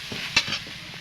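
Spice paste of ginger, dried red chili, cumin and coriander with turmeric frying in a pan, a low steady sizzle with one brief scrape of stirring near the middle.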